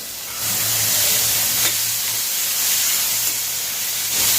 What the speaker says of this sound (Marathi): आता सगळे आपण दाणे घालून घ्यायचे आहे हे चांगलं परतून घ्यायचं आहे